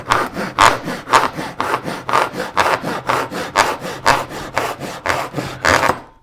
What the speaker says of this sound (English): So this is the Japanese saw.